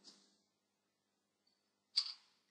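A short, crisp click rings out, followed after a pause by a brighter, louder click sound effect from Microsoft PowerPoint 2010, fading quickly.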